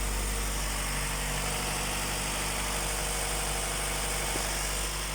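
A small Opel Corsa's petrol engine idling with its idle valve unplugged, a steady close rumble with slight unevenness running throughout, no voices.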